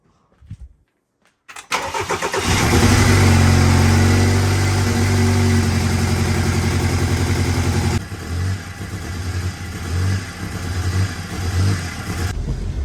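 A BMW F33 convertible recovered from a flood cranks and fires up, then settles into a steady idle, loud and close, with the tone shifting slightly later on. It follows a quiet pause.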